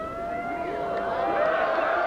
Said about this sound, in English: there's the full-time siren